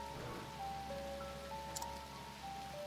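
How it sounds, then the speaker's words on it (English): Steady rain falls in the video game Octopath Traveler, a constant hiss running under soft game music tones. "It's hard to hear over the rain, dude."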